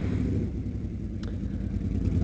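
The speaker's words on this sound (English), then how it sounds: "It's a Suzuki Boulevard" A Suzuki Boulevard C50 motorcycle engine rumbles close by in a low, steady idle with a slight pulsing throb, alone and without voices.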